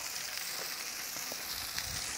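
Sausage and bacon sizzle faintly on a grill, a soft, steady hiss of fat heard from a short distance, with no voices.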